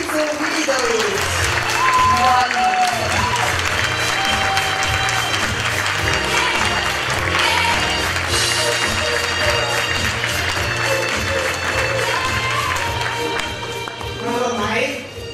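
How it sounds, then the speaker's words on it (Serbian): An audience claps warmly in welcome as speaker Milica Vidović is introduced: sustained, full-bodied crowd applause runs throughout, with music playing underneath and the clapping thinning a little near the end. "Srdačnim aplauzom pozdravimo Milicu Vidović!"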